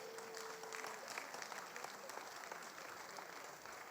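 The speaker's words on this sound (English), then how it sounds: "Please join us to give him a resounding round of applause" Audience applause fills an award ceremony hall, a steady wash of clapping that sounds somewhat distant and sustained throughout, with a brief tonal note early on.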